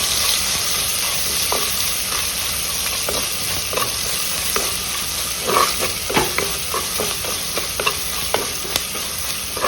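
Sliced onions and small dried shrimp shells sizzle in a hot pan for a rasam, a steady frying hiss broken by scattered scrapes and taps of a stirring spoon.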